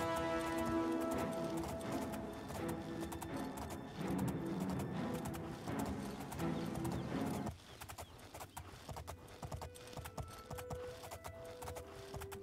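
Horse hooves galloping in The Elder Scrolls IV: Oblivion, a steady, close clip-clop rhythm running throughout, first under layered background music and then more exposed after the music drops away.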